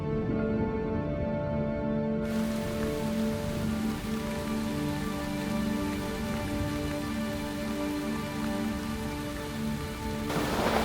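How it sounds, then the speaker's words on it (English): Steady rain falls during a spring storm in snow monkey country, a dense, continuous hiss of drops hitting surfaces, loud and enveloping for the whole stretch, with a low tonal hum underneath. "Spring storms are common and can last for days."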